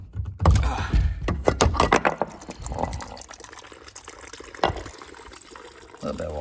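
Water gushes and splashes from a blocked drain pipe during a plumbing job, loud irregular surges early then a thinner trickle, with a couple of clunks and a voice over it.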